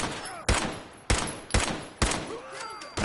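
Gunfire in a wasteland video game: five sharp, loud shots at roughly half-second to one-second intervals, each with a ringing tail, plus faint electronic tones between bursts.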